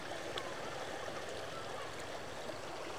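A rural stream flows out of a cave, a steady rushing and gurgling of water that stays close and even throughout, with no talking.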